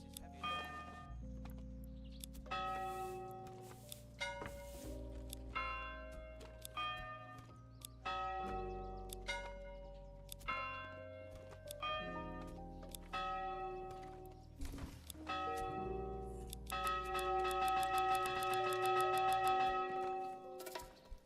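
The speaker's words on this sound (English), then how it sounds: "Also, we get to pick a bell sound." A church bell in a medieval lord-building video game rings out in a series of clear, resonant strikes, each tone lingering and overlapping, ending in a denser, brighter cluster of chimes; no talking over it.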